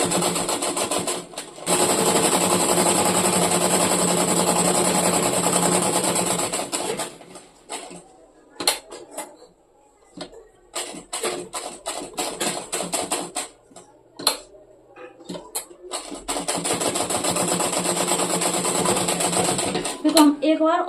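A sewing machine stitches around a shirt's coat-style collar in loud, rapid bursts, one long run, then scattered short starts and stops, then another sustained run, with someone talking in between.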